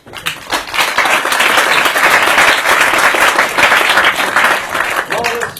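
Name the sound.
audience applause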